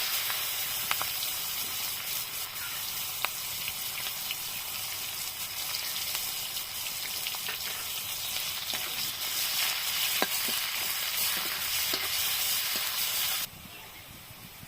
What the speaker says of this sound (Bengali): দেখো পেঁয়াজটা খুব ভালোভাবে ভেজে নিয়েছি।